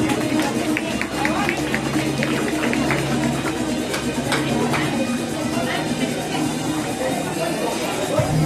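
Audience at a school annual awards ceremony applauding prize winners, a continuous loud wash of clapping mixed with crowd chatter throughout.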